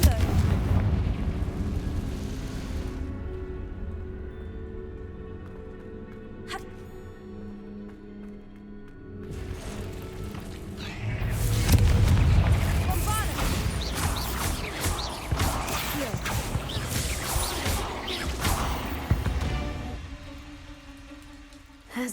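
Confringo fire spells from Hogwarts Legacy set off a string of heavy booming explosions and crashes inside a tomb. Rumbling blasts fade into a brief lull, then loud chaotic bursts and debris pile up over a dramatic musical score.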